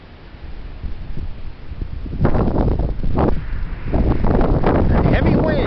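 Heavy wind buffets the microphone with a roaring, broadband rush that starts moderate and surges into louder, sustained gusts partway through, continuing strong to the end.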